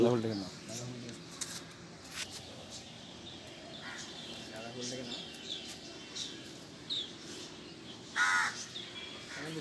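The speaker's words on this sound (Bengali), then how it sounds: "আর ওই ছাদে দেখবেন চলুন কত কাক ভর্তি" Crows caw from a rooftop on a misty winter morning, several short harsh calls scattered at a distance while a person talks throughout in the foreground.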